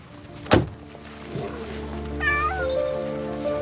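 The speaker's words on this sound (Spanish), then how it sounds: "Es Hippolyte, el gato de mi hijo." A pet cat indoors lets out a single sharp meow, then softer drawn-out meows and a longer wavering yowl follow at moderate volume in a quiet room, with no speech over them.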